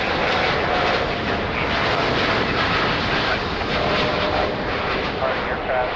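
Jet aircraft at Lisbon Airport roaring steadily with a broad, dense engine rumble and hiss that stays loud for the whole stretch, with radio voice traffic audible beneath it.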